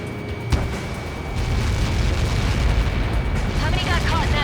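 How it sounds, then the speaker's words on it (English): A massive in-game blast from Ace Combat 7 rolls out as a sustained, heavy low-frequency rumble that swells and holds for several seconds, with a brief sharp crack near the start and radio chatter faintly over the top. "How many got caught in that explosion?"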